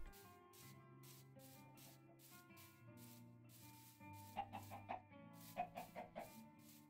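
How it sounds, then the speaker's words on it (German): A Minecraft chicken clucks several times in quick succession over a steady game soundtrack of sustained tones and repeating soft steps, the clucks short and fairly clear. "Hühnchen."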